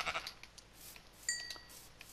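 Sheep bleating in the video game Minecraft, a couple of short, thin calls standing out over a quiet in-game ambience, with no talk.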